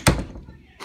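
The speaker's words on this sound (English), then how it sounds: "Shut the door!" A heavy door slams shut in the video game Five Nights at Freddy's 4: one loud, close thud, then a quieter knock near the end.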